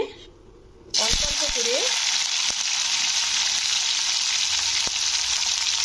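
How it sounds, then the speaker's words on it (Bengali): Bitter gourd (karela) slices drop into hot oil in a wok, bursting into a loud, steady hiss that holds close and continuous after a brief quiet start, with a couple of faint clicks and no talking. "তো এবারে চলো উচ্ছেগুলোকে ফ্রাই করি।"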